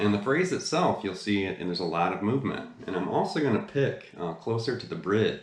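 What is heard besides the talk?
None of the usual background noises is heard.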